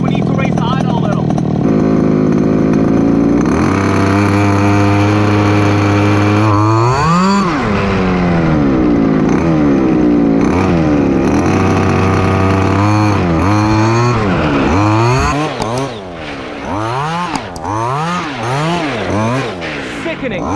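A 1993 Traxxas Monster Buggy, a 1/6-scale RC car with a 23cc Zenoah gas engine, buzzes loudly up close, idling and then revving in repeated sharp, rising blips.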